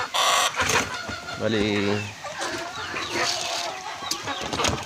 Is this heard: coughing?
no